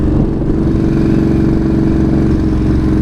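Motorcycle engine revving while riding at speed, a loud, close, continuous low rumble that holds steady with no voices.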